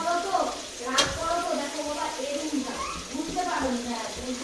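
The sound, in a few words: frying spice mix with tomato and ginger for soybean biryani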